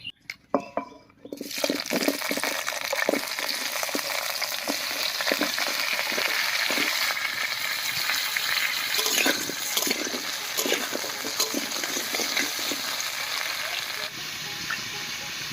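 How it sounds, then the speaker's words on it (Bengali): Papaya and potato frying in hot mustard oil in a kadai, a loud continuous close sizzle and crackle that starts after a brief quiet moment and carries on steadily alone. "এই তেলের মধ্যে পেঁপে আর আলুটা একটু লাল করে ভেজে নেব"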